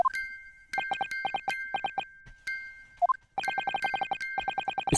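Rapid repeated chiming from a music box tapping out Morse code in the Ace Attorney game, bursts of evenly spaced bright tones with short gaps and one slurred blip midway, clear and without voices.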